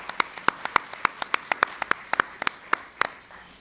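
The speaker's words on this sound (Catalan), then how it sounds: "Un aplaudiment." A small audience at a presentation on energy communities in Foios gives brief applause, a few distinct sharp hand claps in an irregular rapid rhythm over a quiet room, close and clear.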